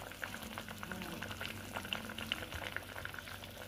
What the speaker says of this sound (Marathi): आता याला उकळी येत आहे